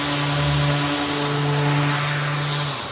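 Steady whine of a power sander on epoxy resin with a constant motor hum, running continuously and close by, easing off slightly near the end.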